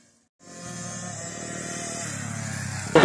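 A mini cross motorcycle engine fades in from silence and holds a steady, buzzing drone that rises slightly while sliding sideways in countersteer, ending with a sharp louder burst.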